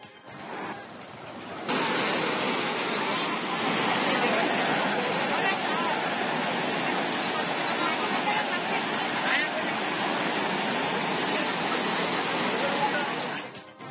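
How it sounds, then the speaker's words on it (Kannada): Swollen streams running in full flow after heavy rain, the Yallamma and Gudur streams in Karnataka, make a loud, steady, broadband rush that holds unbroken from start to finish, close and dominant. "ಯಲ್ಲಮ್ಮನ ಹಳ್ಳ ಹಾಗೂ ಗುಡೂರು ಹಳ್ಳ ತುಂಬಿ ಹರಿಯುತ್ತಿದೆ"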